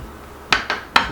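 Metal lids go onto glass jars of roasted peppers with three sharp clinks in quick succession, close and fairly faint, over quiet kitchen background.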